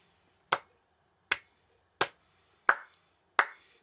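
One person claps slowly in a quiet room. Five sharp, separate claps are spaced under a second apart, each with a short ring after it.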